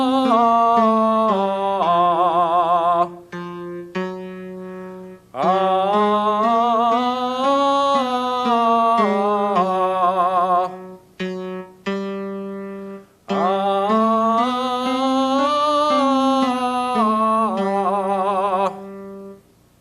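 A sung 'ah' vowel scale exercise: a single voice holds a sustained 'ah', gliding up and down through a scale in three repeated phrases with short breaths between.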